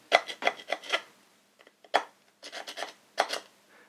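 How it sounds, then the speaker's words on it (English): A file scrapes grooves into the metal cap of a bowling ball bomb prop. The close, rasping strokes come in short bursts with brief pauses between groups. "now on the cap I'm just going to file in a few grooves this way."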